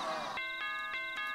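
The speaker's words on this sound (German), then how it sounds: "Wenn du durch eine Tür gehst, muss das Ding Dong machen." A Super Mario Maker 2 door chime sounds as a bright ding-dong, repeated several times in quick clear tones, close and alone without talk.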